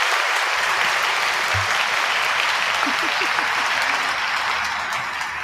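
Steady applause from a small group fills the whole stretch, dense clapping at even loudness with a faint voice or two underneath.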